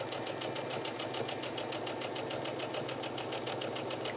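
A sewing machine stitches vintage linens with a fast, even mechanical chatter that runs steadily and faintly throughout, close up with no talking.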